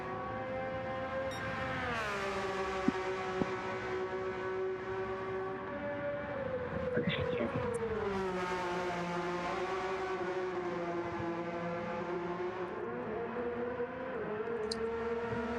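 A race car engine in Gran Turismo 7 roars steadily with harmonic whine, pitch rising and falling through gear shifts at Road Atlanta, continuous and fairly loud with no talking.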